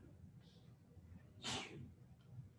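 A single sharp sneeze bursts out in a classroom, brief and fairly close above faint background murmur, followed by quiet breathing.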